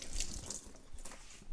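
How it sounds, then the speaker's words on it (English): Water poured into a container at home, a soft splashing trickle with brief drip-like bursts, continuous and fairly quiet throughout. "I'm going to put some water in here"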